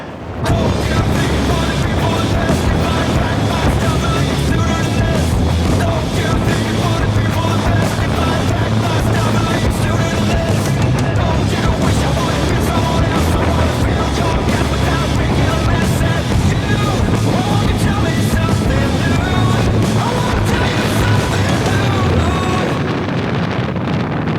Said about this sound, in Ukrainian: Вітер дуже сильний, прям дуже сильний.